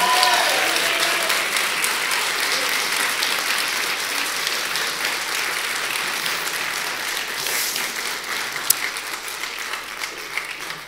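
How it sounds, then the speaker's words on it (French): Wedding guests at a marriage celebration applaud the couple in a dense, steady round of clapping that holds at an even level for about eleven seconds, with no voices rising above it. "Je pense qu'on peut les applaudir bien fort."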